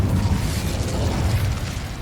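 A fire spell in Hogwarts Legacy erupts as a continuous rumbling whoosh of flame, loud and sustained, with deep low-end roar and no talking.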